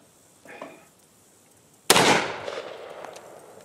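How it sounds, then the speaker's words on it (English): A single pistol shot at an outdoor shooting range, a sharp loud crack with a short ringing decay, preceded by a faint brief clack. "I'm gonna shoot."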